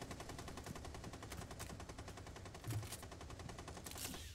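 Rapid automatic gunfire from the video game Rainbow Six Siege, a steady clattering burst of shots running through the whole stretch, loud and close with no talk over it.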